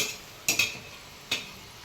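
Murukku dough made from parboiled rice, ground at home, frying in hot oil: a steady soft sizzle with a few sharp clicks of a metal ladle close by.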